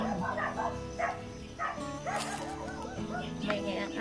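A neighbour's dog barks and yips at intervals in the background of a morning outdoor scene, with a voice talking over it and other household noise throughout.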